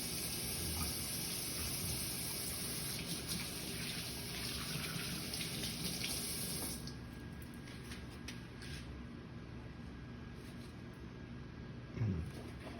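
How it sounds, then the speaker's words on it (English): A kitchen sink tap runs steadily for hand washing, a continuous close hiss and splash that turns lower and duller partway through, ending with a brief clatter. "I'm gonna wash my hands."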